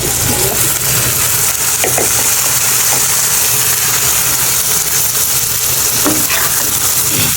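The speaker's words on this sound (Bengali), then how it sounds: "এখন হচ্ছে এই যে আগে থেকে ধুয়ে রাখা করলাগুলো দিয়ে দিচ্ছি।" Washed bitter gourd fries in hot oil with turmeric in a pan, giving a loud, steady sizzle with occasional scraping clinks of a spatula stirring.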